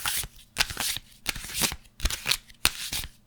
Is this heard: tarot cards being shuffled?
yes